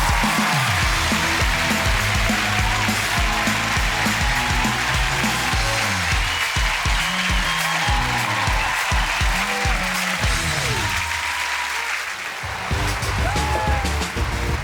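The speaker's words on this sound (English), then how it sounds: "give them a huge round of applause" Studio audience applause on a dating show, a sustained loud wash of clapping that holds steady, dips briefly near the end, then swells again, with music playing underneath.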